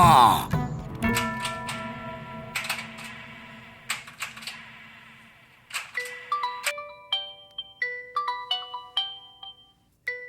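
A mobile phone ringtone plays for an incoming call on a police comedy stage set, a bright electronic melody of repeating tonal notes and chimes that rises clearly over a brief burst of voices at the start.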